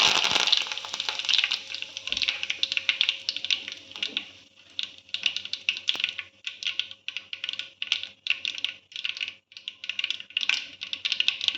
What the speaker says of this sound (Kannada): ಈಗ ಇದಕ್ಕೆ ಕರಿಬೇವು ಹಾಕೋಣ.